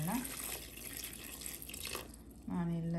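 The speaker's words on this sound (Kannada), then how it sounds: "ಅದಕ್ಕೆ ಎಷ್ಟು ಬೇಕೋ ಅಷ್ಟು ನೀರನ್ನ ಹಾಕ್ಕೊಳ್ಳೋಣ" Water poured from a tap into a cooking pot holding soaked lentils for a Karnataka ridge gourd and green gram curry, a short splashing fill that swells near the end over room noise.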